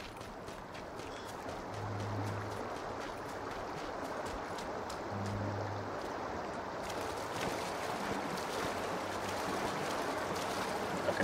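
Steady broadband rushing of water under a bridge, continuous and fairly loud throughout, with a few faint low hums surfacing briefly in the background.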